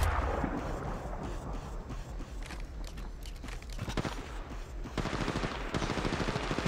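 Rapid bursts of gunfire in the mobile shooter Apex Legends Mobile, dense and continuous with sharp repeated shots, heavier volleys toward the end, with faint footstep-like shuffles underneath.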